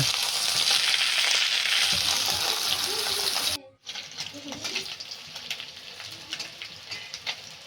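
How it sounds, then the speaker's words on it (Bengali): Hot oil crackles loudly around small bata fish frying for a Bengali curry, then abruptly drops to a quieter, sputtering sizzle with scattered pops and faint clinks of stirring. "মাছগুলো ভাজা হয়ে গেছে।"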